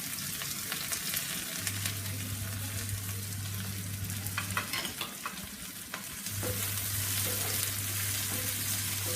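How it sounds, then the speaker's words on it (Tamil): Onion and garlic sautéing in sesame oil for curry leaves kuzhambu, a steady close sizzle with occasional stirring clicks and a low steady hum underneath, no voices. "இப்போ வெங்காயத்தை ஆட் பண்ணி பூண்டையும் ஆட் பண்ணுறோம்"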